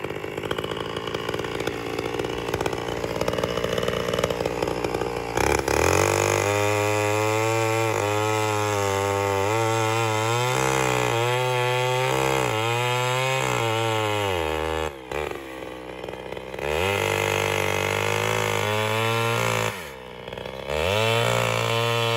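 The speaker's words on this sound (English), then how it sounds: "Get this chainsaw against that tree." A chainsaw cuts into a tree to clear an overland trail, its engine revving up and down in repeated strained bursts close by, with brief drops to idle between cuts.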